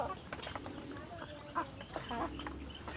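Desi chickens cluck in short, repeated bursts, moderately close but faint, over a steady high-pitched background hum.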